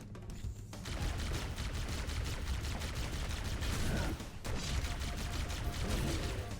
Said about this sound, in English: There are many explosions happening,